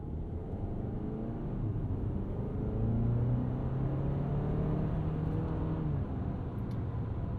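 A 2022 Kia Sorento X-Line with its 2.5 liter engine driving on a Florida road, a low steady cabin rumble with a faint engine tone rising and falling as it accelerates.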